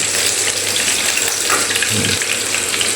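Battered crispy chicken pieces frying in hot oil give a steady, dense hiss and crackle that fills the whole clip at a close, even level.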